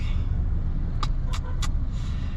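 Heavy Saturday road traffic near Alabang, a constant low engine rumble of cars and buses with a few short hissing bursts like air brakes, heard close with no talking.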